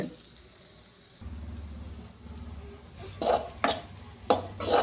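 Onions sautéing in a pan for a village-style fish thokku, a soft sizzle with sharp spoon-on-pan scrapes and clinks coming in bursts near the end.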